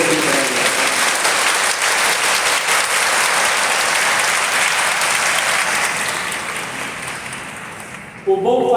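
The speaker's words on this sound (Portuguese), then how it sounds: "uma salva de palmas pelos 21 anos de Padre." A church congregation claps together in sustained, dense applause that fills the space, holding steady and then gradually fading toward the end.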